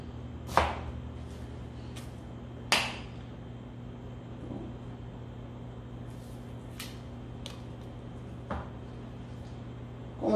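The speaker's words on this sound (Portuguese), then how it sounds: "Como é que eu corto o meu julienne? Apoio na tábua, tá?" Knife cutting a peeled onion into julienne strips on a cutting board, a handful of sharp, separate chops spaced irregularly against a quiet room hum.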